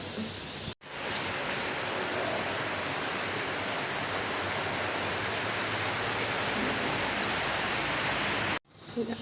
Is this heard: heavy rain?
yes